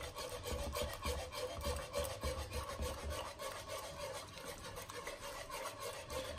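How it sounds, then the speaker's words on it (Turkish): Caramel ice cream mixture being whisked in a bowl, a quick, steady, rhythmic scraping and rubbing of the whisk, close and fairly quiet, with no voices. "Bir yandan da bunu çırpacağım."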